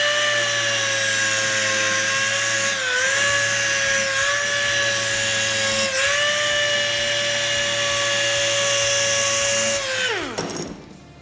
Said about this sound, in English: So if I keep the sander angled, I should be able to burn that off